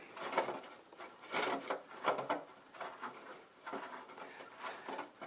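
A hand-held Lexan reamer twists into a polycarbonate RC car body in quiet, irregular scraping and creaking strokes, close and fairly faint.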